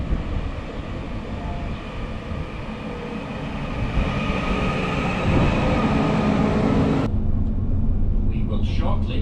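A passenger train pulls away from Fitzwilliam station bound for Doncaster, heard from inside the carriage as a steady, loud rumble and rattle that builds slightly before the sound changes abruptly near the end.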